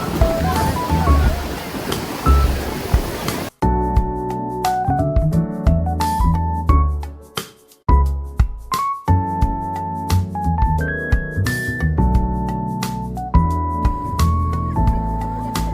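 Sea waves break and wash at Puri beach: a dense, roaring surf for a few seconds that gives way to music with a steady beat for the rest.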